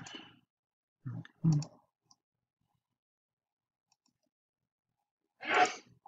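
A single sharp sneeze stands out near the end, loud and close, after some brief breathy vocal sounds and a long stretch of quiet.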